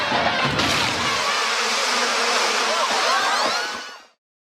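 Loud, continuous swarming buzz of killer bees pouring from a cracked-open box in The Simpsons cartoon, a dense droning hum holding steady for about four seconds before cutting off abruptly.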